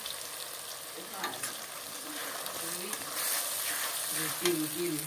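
Spice paste with black cumin frying in a pan for a catla fish curry, producing a soft, steady sizzle with occasional stirring scrapes, while a voice speaks quietly over it.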